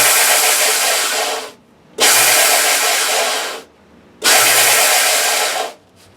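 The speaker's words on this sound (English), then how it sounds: "the foot switch turns the sander on" A foot-switched sander trims the edge of a guitar shim in three loud, close whirring bursts, each cut off abruptly by a short silence.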